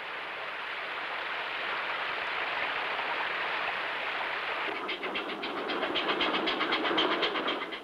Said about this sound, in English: This train once carried slate for the roofs of the homes of the Welsh miners